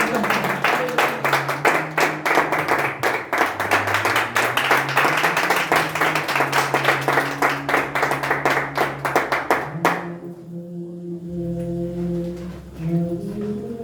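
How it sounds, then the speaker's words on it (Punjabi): A church congregation at a prayer meeting in Kuwait claps hands in steady rhythmic unison for about ten seconds, loud and close, with singing voices and sustained tones underneath; the clapping stops and the music carries on alone. "ਹੁਣ ਅਸੀਂ ਤਾਲੀਆਂ ਮਾਰ ਕੇ ਪਰਮੇਸ਼ਰ ਦੇ ਪ੍ਰਾਰਥਨਾ"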